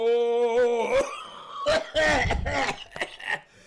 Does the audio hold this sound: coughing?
yes